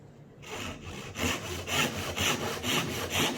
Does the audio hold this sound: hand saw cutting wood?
yes